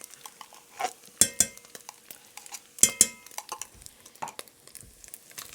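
A spoon stirs tomato paste into browned ground beef in a pot for beef soup, giving close scraping and soft clatter with two sharp metallic knocks against the pot.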